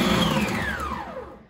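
A Howork stand mixer whirs briefly on its pulse setting, a steady motor hum whose pitch slides downward as it spins down, close and moderately loud with no talk.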